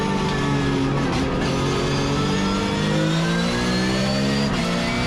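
A Porsche race car engine accelerating hard on the Zandvoort circuit, with rising engine harmonics sweeping upward as it climbs through the revs, loud and close throughout with no talk.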